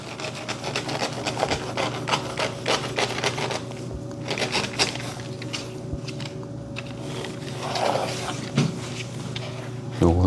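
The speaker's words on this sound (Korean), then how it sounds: "재단판에 여기 27 눈금 떼고 지금 자르고 있습니다" Fabric being cut on a cutting mat along a ruler for a bag, heard up close as steady scraping and rubbing with small clicks over about ten seconds.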